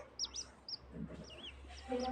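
A tiny native chick peeps in short, high chirps that come in scattered bursts, close by, over a low steady background hum.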